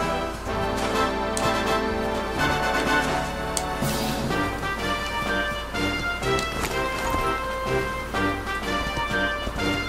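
Horse hooves clip-clop in the Dragon Quest 11 video game, a steady galloping patter mixed under continuous game music.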